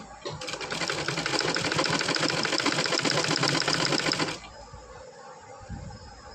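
Sewing machine running steadily as it top-stitches a blouse, a dense even whir of rapid stitches for about four seconds before stopping, leaving only faint room noise.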